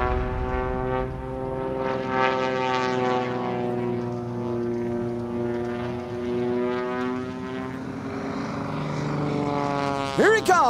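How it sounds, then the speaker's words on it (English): The Demon One biplane flies an aerobatic display at Sun 'n Fun 2019, its propeller engine droning and shifting in pitch as it passes, fairly loud, with a voice speaking over part of it. "Kyle Franklin and the Demon One Biplane taking the skies over Sun and Fun 2019."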